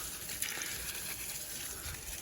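Fish tank water pours from a watering can onto garden plants, a faint steady gushing splash heard outdoors with no speech.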